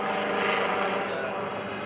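An airshow helicopter performing a tail rotor spin gives a loud, continuous rotor and engine roar with steady whirling blade noise, close and unbroken for the whole moment.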